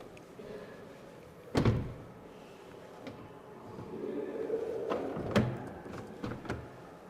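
Soft-closing door of a 2027 Mercedes-AMG GT 63 4-Door being shut: a dull, close thump, a quieter stretch, then a second muffled thunk a few seconds later.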